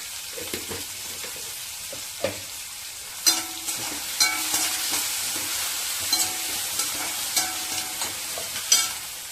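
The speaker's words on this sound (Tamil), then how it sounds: "வெங்காயம் வதங்க சால்ட் போட்டுக்கிறேன்" Onions sauté in a hot pan with salt, giving a continuous sizzle broken by distinct scraping clinks of a spatula stirring every second or so.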